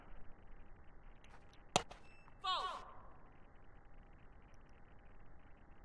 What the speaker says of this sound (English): That's the first time I've heard that little net sound.